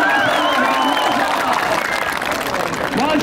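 A crowd of spectators at a traditional pahlavani wrestling match in Faizabad, Badakhshan claps loudly and continuously, a dense, steady roar of applause with raised voices mixed in.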